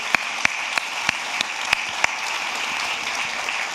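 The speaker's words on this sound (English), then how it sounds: "give our presentation team just a quick round of applause for the work they've done through the day" Audience at a London tech conference closing session applauding the presentation team, a steady wash of many hands clapping with a few sharper, nearby claps standing out.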